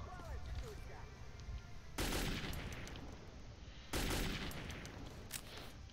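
AK rifle fire in the video game Metro 2033: two loud, sustained bursts of rapid automatic gunfire, each lasting about two seconds, with quieter game ambience between them.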